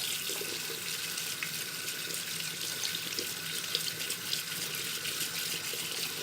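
Tap water running steadily into a sink while makeup brushes are rinsed clean, a continuous close hiss with small splashing changes and no voices.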